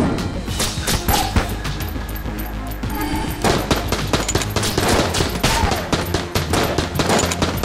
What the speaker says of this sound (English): Just firing random shots!